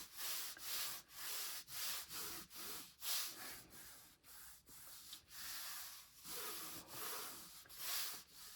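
Paper is rubbed down firmly onto an album page in quick, repeated strokes, a close, soft scraping rhythm of about a dozen passes with no talking.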